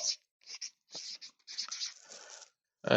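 Chalk or marker scratching on a board while writing out a geometry construction, in short quick strokes with brief gaps, close and fairly clear, no talking.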